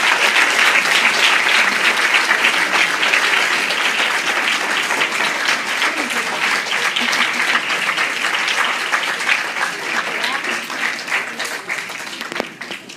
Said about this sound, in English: give them a round of applause for everything they've done for you